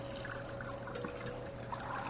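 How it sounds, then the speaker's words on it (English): Water poured through a strainer over fresh pomegranate seeds, making a soft, steady trickle that runs evenly throughout, with no talking. "we're just going to pour our water"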